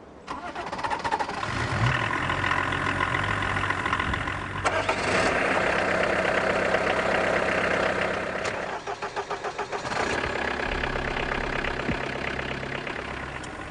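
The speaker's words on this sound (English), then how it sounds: "The early morning start-up, the crackle of the cold engine and the cloud of black smoke it emits." A cold diesel car engine from the early 1990s cranks and catches, then runs with a rough, crackling, knocking idle, the tone shifting as revs change and briefly stuttering before settling into a loud clattering idle.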